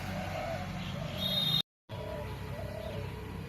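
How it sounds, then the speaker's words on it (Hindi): Many birds chirp and coo together outdoors in a residential neighbourhood, a steady moderate chorus with scattered calls and a brief silent dropout midway. "और हमारे एरिया में माशाल्लाह से बहुत सारे परिंदे हैं, और एक साथ जब वो चहचहाते हैं तो बहुत प्यारा सा एक साउंड क्रिएट होता है"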